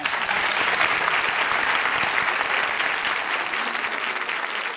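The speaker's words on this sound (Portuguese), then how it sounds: "Pode aplaudir Luciana Dadalto." Sustained audience applause at a talk on palliative care and end-of-life autonomy, dense steady clapping from a crowd filling the whole stretch without pause, loud and even throughout.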